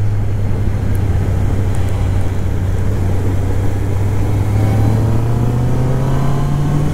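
A big group of Harley-Davidson motorcycles overtaking on a Scottish coastal road, their deep engine rumble loud and steady throughout, rising in pitch toward the end as the bikes pass close by.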